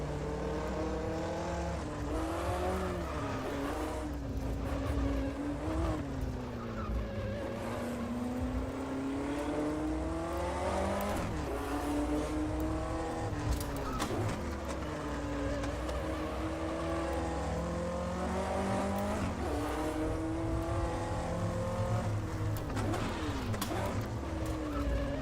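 A 1958 Formula 1 race car engine in the sim racing game Automobilista VR, lapping the Napoli circuit. It rises and falls through gear changes in a loud, close, continuous howl with no talking.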